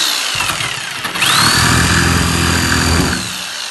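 A Bosch jigsaw cutting, heard loud and close as a buzzing motor with a rough sawing texture over a few seconds, rising in pitch as it spins up, with no talk.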